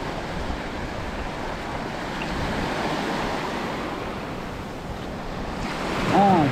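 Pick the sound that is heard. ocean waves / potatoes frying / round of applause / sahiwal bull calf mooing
ocean waves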